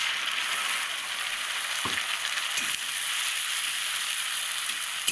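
A ground spice paste of cumin, ginger, dried red chili and garlic fries with browned onions in a pan, a steady broad sizzle with a couple of soft stirring scrapes, close and continuous.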